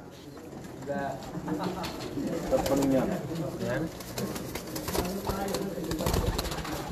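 Pigeons coo repeatedly at a champion pigeon flyers' gathering, a steady soft cooing chorus running beneath ongoing conversation between several men.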